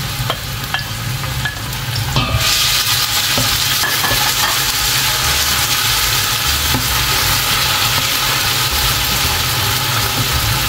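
Sepia, cod and vegetables sizzle loudly in a hot pot while being stirred, with steady frying crackle, scraping of the utensil and a sudden louder hiss after about two seconds as more food goes in.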